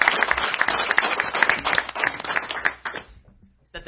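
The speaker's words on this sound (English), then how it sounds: "Let's give them a round of applause." Applause for a live comic-book podcast's 100th episode, following a birthday song: a dense burst of clapping from a small in-studio audience that fades out over about three seconds, then a brief sound at the very end.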